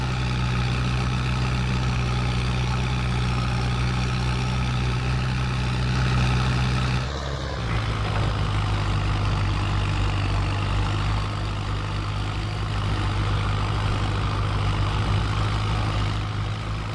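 Tractor engine idling steadily from inside a sun-baked cab, a loud continuous low rumble with a strong hum, briefly shifting in tone partway through before settling back into its even drone.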